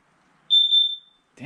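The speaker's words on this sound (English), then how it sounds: "Why is this thing beeping?" A smoke alarm chirps once in a quiet cottage in the Canadian wilderness, a single loud, piercing beep of about half a second, followed by a brief rustling noise.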